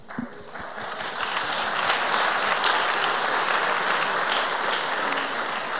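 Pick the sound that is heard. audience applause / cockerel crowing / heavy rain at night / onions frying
audience applause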